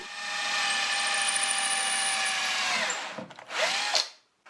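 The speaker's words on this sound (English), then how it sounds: "I drill the hole so that the wooden rod does not split." A power drill whines steadily for about three seconds, then bites and sputters in short bursts before stopping, close and loud, drilling a hole in a round wooden rod.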